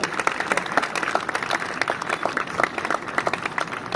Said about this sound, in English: A big round of applause for Dr. Shubhanu.